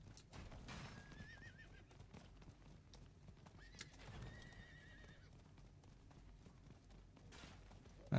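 A horse mount in Diablo IV whinnies loudly near the start, followed by steady clip-clopping hooves and another neigh, with game ambience throughout.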